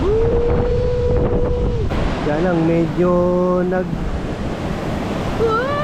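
Strong surf roars and crashes steadily in the background on a Boracay beach while voices talk and call out over the rushing water.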